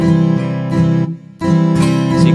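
Strummed chords from a virtual guitar instrument play a steady strum pattern, with a short rest around the middle where the notes are released and the sound drops out before the strumming resumes, loud and close.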